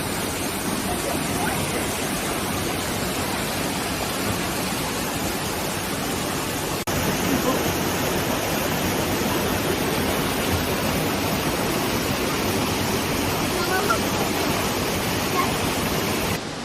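Dipsizgöl waterfall roars in a steady, loud rush of falling water, broad and unbroken throughout with no voices standing out.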